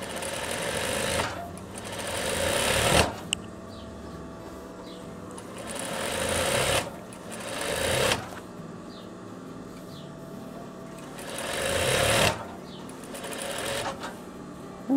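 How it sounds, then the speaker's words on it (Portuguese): A sewing machine topstitches a seam on a veterinary coverall in three bursts of rapid, buzzing stitching, each lasting a couple of seconds and separated by quiet pauses with faint handling noises. "eu vou passar um pespontinho aqui só para dar uma firmada nessa costura"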